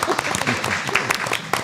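A small group at a school board meeting claps briefly in scattered, uneven hits, close and short-lived, with voices mixed in.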